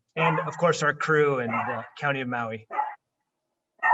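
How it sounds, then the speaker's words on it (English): A dog barks in short bursts in the background while a person keeps talking over it, the barks fairly close but partly buried under the voice. "Sorry about the dog."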